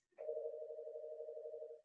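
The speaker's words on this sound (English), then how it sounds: "you hear my phone ringing?" A phone rings with a single steady electronic tone lasting almost two seconds, fairly faint and heard alone.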